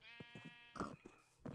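Sheep bleating in a blocky survival video game, several short nasal bleats in quick succession, close and fairly clear, with no talking over them.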